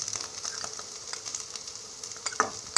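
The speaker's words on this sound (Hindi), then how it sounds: "ये देखिए हमारी जो आलू है वो 2 मिनट हो चुकी है फ्राई होकर" Potatoes fry in a pan and are stirred with red chili powder, a steady close sizzle broken by scraping stir sounds and a sharper scrape near the end, with no voice.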